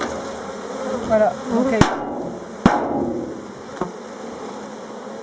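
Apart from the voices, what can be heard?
honeybee swarm buzzing around hive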